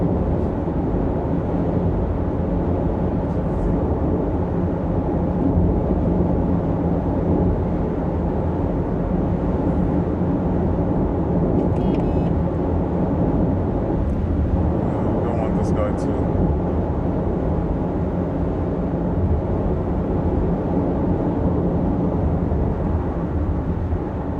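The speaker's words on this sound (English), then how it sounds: "you can hear the engine pushing." Steady, loud engine and road drone from a Toyota Corolla Cross XS SUV driving on a busy multi-lane road, a broad constant rumble with wind noise running throughout and no pauses.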